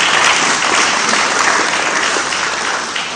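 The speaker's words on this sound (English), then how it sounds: "Let's give them a round of applause for being here this evening." Audience applause at a city council meeting, a dense, steady wash of clapping from the chamber that stays loud and even throughout, with no talk over it.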